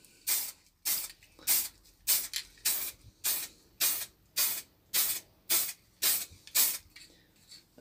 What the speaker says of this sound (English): basically just spray it on like so